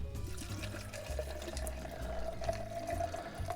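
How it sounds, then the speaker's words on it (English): Liquid pours steadily into a cocktail shaker in a continuous close splashing stream that runs the whole time, with no talk over it. "let's pour it into the shaker"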